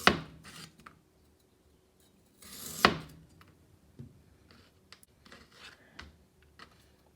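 A knife cutting slices of ginger on a board, two sharp cuts followed by softer scattered taps and scrapes, quiet and close with no talk.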